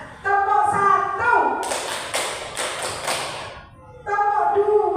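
Children play a clapping game, slapping their hands in a quick run of sharp claps and taps between stretches of sung or chanted voices.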